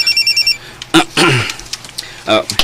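A telephone rings in a short burst of repeated electronic trills at the start, followed by people talking in a Cebuano-language radio drama.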